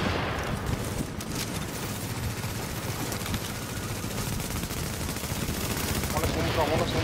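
Rapid bursts of gunfire from the team shooter video game Rogue Company, loud and dense, with automatic fire rattling continuously across the whole stretch and voices talking over it.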